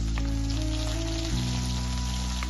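Onions hit oil already frying cloves and cinnamon, and a steady loud sizzle fills the whole stretch without pause, close and constant.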